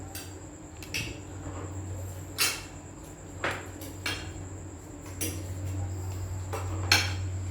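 A cake spoon clinks against a plate during eating, with about seven sharp, irregularly spaced metallic taps over a low steady background hum.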